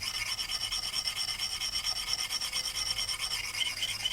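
A file or sharpener rubs along the edge of an axe in quick, rhythmic rasping strokes, close and moderately loud, with no talking.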